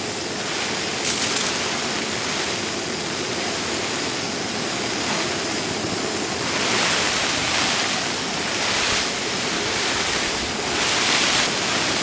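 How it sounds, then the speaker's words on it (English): Heavy torrential rain pours onto a campsite tent, a loud, dense, unbroken roar of water with gusty swells, no voices. "So much rain."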